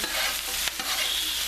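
Vegetables sweat and sizzle in a large 6 or 8 quart skillet for chicken with white beans and okra, giving a steady close frying hiss with a brief stirring scrape partway through.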